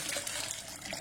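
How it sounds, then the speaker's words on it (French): Water poured into a blender jar for a beghrir (Moroccan semolina pancake) batter, a steady, close splashing flow that runs without a break for the whole moment. "Je prends mon mixeur et je mets l'eau."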